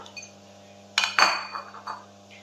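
Black-eyed peas tipped into a couscoussier pot for a traditional Algerian vegetable dish: two quick, sharp rattling clatters close by, followed by a few smaller clinks that fade away.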